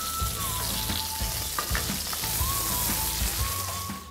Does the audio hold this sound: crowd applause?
no